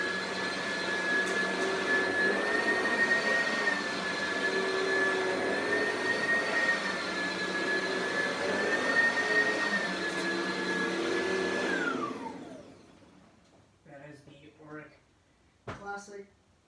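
An Oreck Classic XL upright vacuum cleaner runs loudly with a steady whining drone, then powers down, leaving a few brief spoken words afterward.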